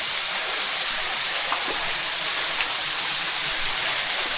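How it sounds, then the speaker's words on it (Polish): Steady, loud rushing roar of a jungle waterfall heard from beneath it, continuous white-noise pour of falling water close by with no voices. "Jesteśmy pod wodospadem."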